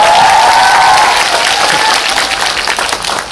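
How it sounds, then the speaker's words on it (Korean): A cinema audience at a Korean stage greeting for the film Kundo: Age of the Rampant gives loud, continuous applause that fills the room, fading slightly toward the end. "제가 박수 쳐드리겠습니다."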